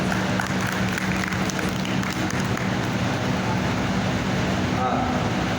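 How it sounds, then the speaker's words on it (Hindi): An audience at a Jain mangal kalash sthapna ceremony claps loudly, a dense continuous roar of hands over a steady low hum, sustained and close throughout. "और फिर जोरदार ताली"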